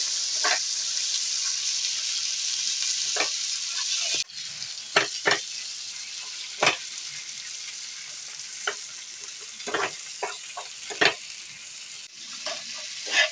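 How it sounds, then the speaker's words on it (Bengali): Chopped tomato and slit green chilli fry with spices for an egg curry, a constant loud sizzle carrying over scattered scraping taps of a spoon stirring the pan, with no voices. "দিয়ে এটা মশলার সাথে ভালো করে ভেজে নেব যতক্ষণ না টমেটোটা ভাজা ভাজা পর্যন্ত হয়ে আসছে।"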